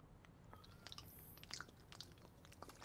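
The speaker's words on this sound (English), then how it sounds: "why is somebody chewing in the microphone?" Faint, wet chewing and crunching picked up close on a microphone during a Valorant game, a run of small irregular bites, with no talk.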